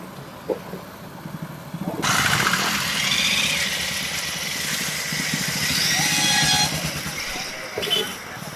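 Motorcycle engines idle and rumble together at a rainy-day bike rally with around two hundred bikes, a steady broad drone that swells at about two seconds and holds, with one sharper rev near the end and voices mixed in.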